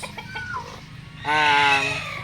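Naked neck Brahma chickens cluck in the background on a farm, then one bird lets out a louder, drawn-out crow-like call that rings for about a second before fading.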